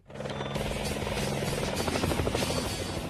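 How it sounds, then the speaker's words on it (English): A loud, steady helicopter roar with chopping rotor pulses as helicopters land on the Cárcel Modelo prison roof in Panama City during a 1989 rescue, close and continuous, with no talk over it. "the choppers land on the prison roof through a hail of bullets"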